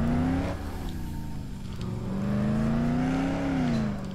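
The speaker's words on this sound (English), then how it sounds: "Driving down the road." A car drives down a road in the Dead Island video game, its engine holding a steady droning hum that rises and falls slightly in pitch, with no talking.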